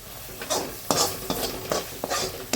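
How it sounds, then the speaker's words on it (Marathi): Onion frying in a pan for eggplant fry, soft sizzling broken by four or five brisk stirring scrapes of a spatula, close and fairly quiet. "इथे बघा आपला कांदा असा शिजतोय"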